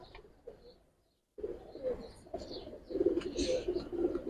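Pigeons, fancy Giribaz birds kept in a loft, coo softly at close range, low throaty burbles that come and go, faint at first and then fuller after a brief silence, with light rustling and no speech.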